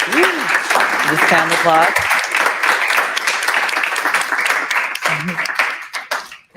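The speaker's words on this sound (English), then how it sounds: "Let's give a round of applause to Emre." An audience gives a round of applause for a presenter at a Web3 Foundation talk on building with Substrate for Polkadot, steady clapping under overlapping voices before it fades out.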